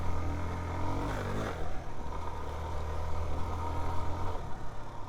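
A Suzuki DR-Z4S motorcycle engine pulls hard in ride mode A, its note rising in a sweep before settling into a steady, loud drone; a rider's helmet-muffled wind rush runs underneath.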